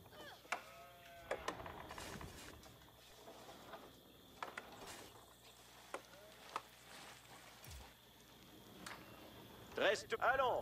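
Sheep bleat in the Age of Empires 4 video game: short repeated bleats scattered among clicks and interface sounds, with a voice talking over parts of it.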